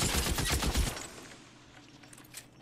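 Rapid automatic rifle fire from a BAR in the video game L.A. Noire, a dense burst of loud shots for about a second, then fading to quieter background with a faint later pop.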